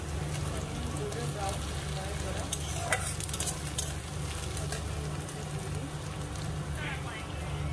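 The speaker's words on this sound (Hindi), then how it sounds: "तो अनियन थोड़ा ब्राउन होने तक इसको थोड़ा फ्राई करेंगे" Onions fry in a pan while cooking chana masala, giving a steady, dense sizzle close by with faint stirring scrapes and no talk.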